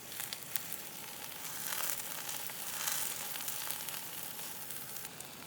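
Mushroom steaks sear in a hot pan, giving a steady, close broadband sizzle that swells slightly around the middle, with no voices.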